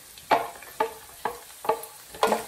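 Diced carrots and green beans fry with onions in a pan for chicken fried rice, with five evenly spaced scraping stirs over a soft, constant sizzle and no talk.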